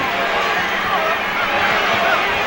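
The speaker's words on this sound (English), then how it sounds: "I'll tell you one thing, this crowd's alive." Crowd noise inside a 1978 Phoenix Suns versus Cleveland Cavaliers basketball arena, a loud continuous roar from the stands heard under a commentator's voice.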